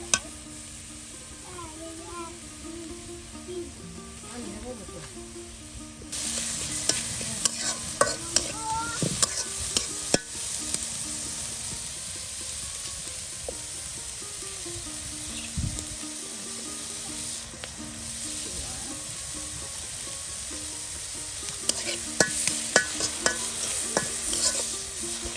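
Chopped onions fry in oil rendered from pangas fish, cooked village-style over a fire, giving a steady hiss and sizzle with repeated scraping and stirring strokes, growing louder partway through, with occasional background voices.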